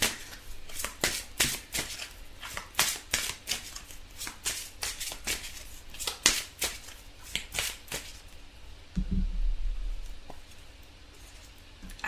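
Oracle cards from a Gaia oracle deck being shuffled close up, a rapid string of crisp riffling slaps for several seconds, then a softer draw and quieter handling, with no talk.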